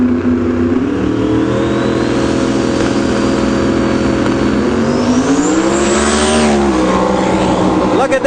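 A drag race car launches hard and carries its front wheels up for the first hundred feet, its engine roaring loud and near with a rising, sweeping pitch that climbs steadily as it pulls away.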